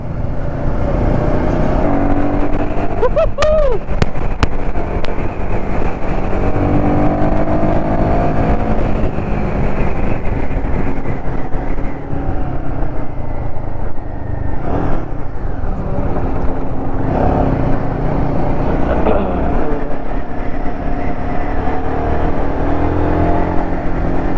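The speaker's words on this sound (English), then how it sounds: "You have to match the engine RPM." A motorcycle engine revs and holds steady at high volume, heard up close while riding on a road trip to Srisailam, with a continuous dense drone and some rising and falling pitch near the start.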